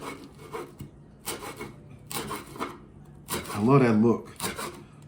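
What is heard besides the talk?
knife julienning cabbage into thin strips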